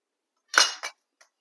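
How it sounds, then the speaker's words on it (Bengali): Cauliflower leaf greens cut by hand with a knife: one crisp chopping burst with a quick second cut just after, then a faint small tick, close and alone without talk. "তাহলে বুঝতে পারবেন আমি শাকগুলা কিভাবে কাটছি।"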